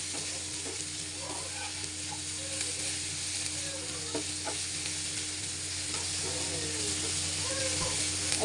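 Fish frying crisply in a pan, a steady broad sizzle that runs the full length and builds slightly louder toward the end, with faint utensil stirring and a low background hum.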